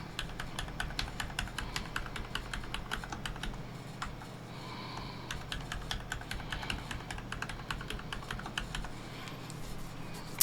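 Someone types a password on a computer keyboard, with a quick run of close, crisp key clicks at a brisk, uneven rhythm and a short pause partway through.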